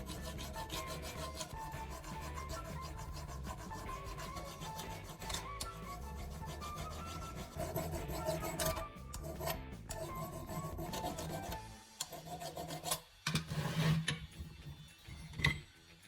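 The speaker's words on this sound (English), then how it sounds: "Hold it steady and use a carbide file to lightly dress the cutting edge." A carbide file rasps across the tip of a step drill bit in slow, steady strokes. The gritty scraping repeats rhythmically at close range for about twelve seconds, then turns into a few scattered rubs and taps.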